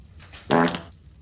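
A single short, loud fart from the French comedy series Kaamelott, a buzzy burst lasting about a third of a second against a quiet background.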